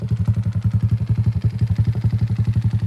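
A motorcycle with an open-pipe exhaust runs close by, loud and rapid, with a steady pulsing exhaust beat throughout.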